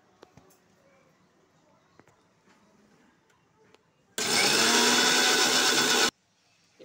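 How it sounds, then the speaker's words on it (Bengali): Electric grinder blending soaked masoor dal with two green chillies: a loud, steady whirring burst lasting about two seconds, starting and stopping abruptly, with quiet kitchen clatter before it. "দিয়ে ডালটা পিষে নেব"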